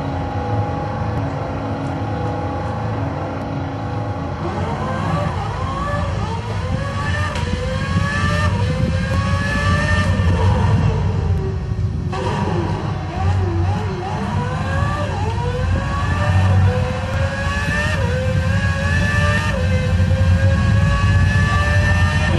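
An F1 car screams through a lap of the Bahrain circuit in an F1 PlayStation game, engine pitch rising repeatedly through the gears and dropping on downshifts, loud and continuous.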